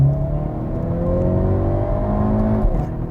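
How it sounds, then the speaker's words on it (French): A 2022 Hyundai Veloster N accelerates as heard from inside the cabin. The loud engine drone climbs steadily in pitch, then a brief dip marks a gear change, with no talking. "On sent une petite accélération"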